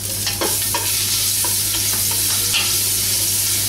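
Garlic sautéing in hot oil in a cooking pan for kare-kare, a steady close sizzle with occasional scraping stirs and clinks.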